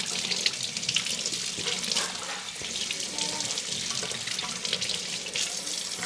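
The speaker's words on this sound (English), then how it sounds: "you're just gonna rinse this off with the cold water" Cold water runs steadily from a kitchen tap over a brined, garlicky trout being rinsed before smoking, a continuous close splashing hiss with no talk.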